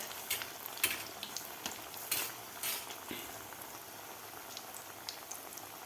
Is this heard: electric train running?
no